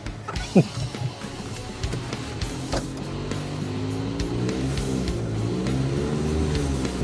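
An MG pickup truck engine idles and hums with a steady low drone, slight revving near the end, while people talk over it.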